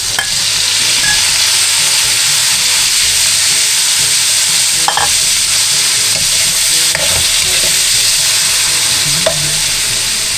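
Tomatoes hit a hot frying pan and sauté with a loud, continuous sizzle, broken by occasional scrapes and knocks of stirring.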